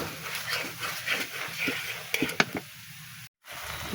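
Soybean chunks fry in a pan with salt, turmeric and green chili while being stirred, giving a steady close sizzle broken by scraping and clattering from the spatula, with a brief dropout near the end.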